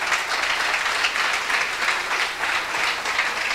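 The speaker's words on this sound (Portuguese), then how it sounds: "Uma salva de palmas para elas também." Sustained, fairly loud audience applause at an anniversary gathering for a youth radio station in Tomar, a dense even wash of clapping from a crowd of around eighty people.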